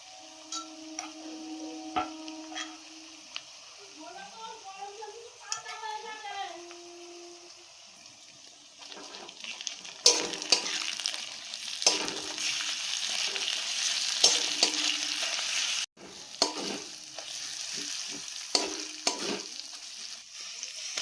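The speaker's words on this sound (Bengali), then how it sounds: "এবার দিয়ে নেবো আদা রসুন বাটা, দিয়ে এটাকে ভালো করে ভেজে নেবো" Ginger garlic paste fries with onions in a pan, starting as a soft sizzle and growing into a louder steady hiss, broken by intermittent taps and scrapes of stirring; a brief voice is heard near the start.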